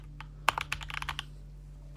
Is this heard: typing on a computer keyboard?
yes